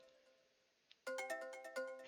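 A phone ringing in a visual novel video game: a bright, electronic tonal ringtone starts abruptly after a quiet, faint musical bed and repeats in a rapid rhythmic pattern, clear and fairly loud.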